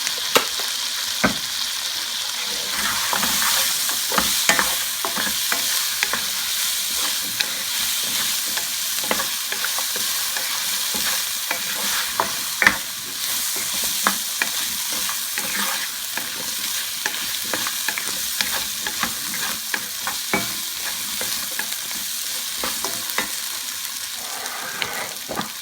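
Turmeric and whole cumin seeds frying in oil for vegetable pilaf, a steady close sizzle broken by repeated sharp pops and spoon scrapes against the pan as the spices are stirred.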